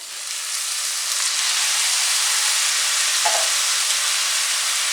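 Lentils and potatoes hitting a hot pan, a loud steady sizzle and hiss of frying that swells and holds with no talking.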